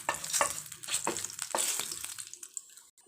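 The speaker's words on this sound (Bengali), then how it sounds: "তেল গরম হয়ে গেছে, সব মশলাগুলো দিয়ে দিলাম।" Spices hit hot oil in a wok for sweet tomato chutney, giving loud close sizzling bursts with stirring strokes. The sizzling settles into a fading hiss and then near silence.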